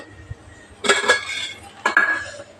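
Two metallic clanks a second apart as a lid is set down on a pot of boiling cauliflower, loud and close, with a faint ringing after each.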